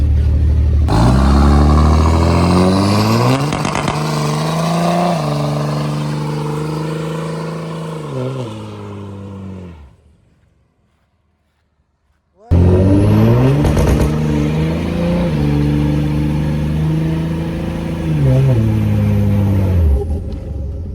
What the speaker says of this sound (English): It does the burnout. I can confirm burnouts are a go.